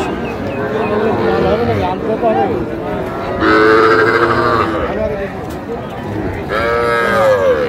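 A young Sahiwal calf moos repeatedly at a busy cattle market, with loud drawn-out calls close by rising over steady crowd chatter and bargaining voices.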